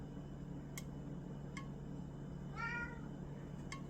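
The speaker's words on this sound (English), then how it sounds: "You can hear my kitty in the background." A pet cat gives a single short meow in the background of a quiet indoor room, faint and distant, alongside a few soft clicks.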